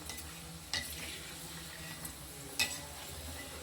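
Vadagam, sun-dried sundries made from leftover cooked rice with cumin, frying in a generous amount of oil, giving a steady soft sizzle with two sharper crackling pops partway through, close and without talk.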